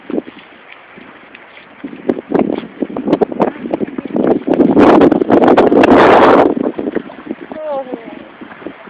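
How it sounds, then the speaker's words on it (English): Gusty wind at an outdoor dog park, loud broadband rushing that swells to a strong peak midway before easing, with scattered thumps and a voice talking over it. "A little windy."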